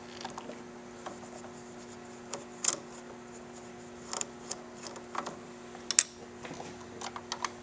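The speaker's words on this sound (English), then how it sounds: "just take those screws off" Phillips screws being backed out of a Victory Vision motorcycle's handlebar switch housing with a screwdriver: faint, sparse ticks and light scratchy clicks over a quiet workshop background, with no talking.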